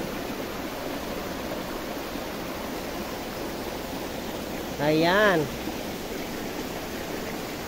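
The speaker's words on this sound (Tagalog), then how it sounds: "Ang lakas na ng tubig." Steady broadband rush of heavy rain and running water throughout, with a brief spoken word partway through.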